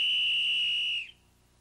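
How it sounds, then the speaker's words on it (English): A simple whistle blown as a self-defense alarm gives one loud, steady, shrill blast lasting about a second before cutting off sharply, leaving quiet room tone. "a simple whistle can do the job"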